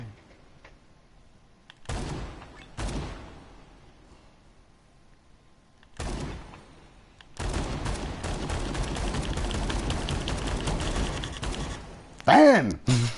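Gunfire in the video game Dead Rising 4, with short bursts of shots followed by a long sustained barrage and sharp blasts near the end.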